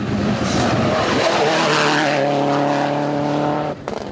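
An underpowered rally car drives flat out on a stage, its engine droning loud and close with a steady rising note, brief tyre scrabble, then the engine cuts away abruptly near the end.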